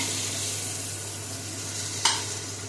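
Chicken sizzles steadily in hot rice bran oil in a pan for the beera chicken, with one short scrape or stir partway through and no voices.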